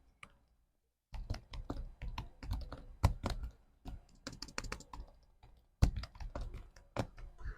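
Fast, crisp clattering keystrokes on an Apple keyboard, typed close by in short bursts with brief pauses and a couple of sharper key hits.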